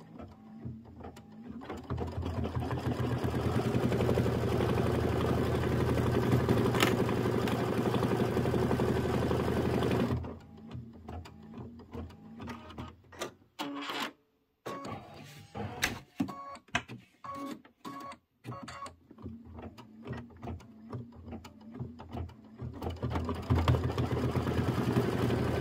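Sewing machine stitching a tack-down line around the windows on a Kimberbell Falling Into Autumn quilt, a steady loud mechanical whir for about ten seconds, then stop-and-start bursts with short pauses before running continuously again.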